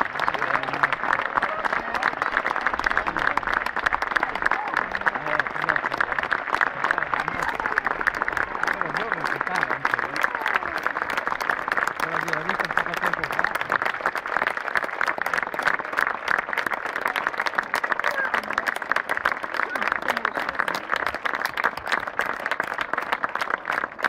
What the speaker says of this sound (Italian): un grandissimo, fortissimo, l'unico grandissimo applauso, un abbraccio a Giovanni Corradini.